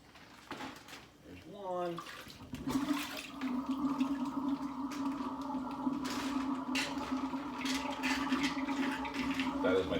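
Kitchen sink draining in a home kitchen, a steady gurgling rush of water with a low hum that continues throughout, close, with a person speaking over it.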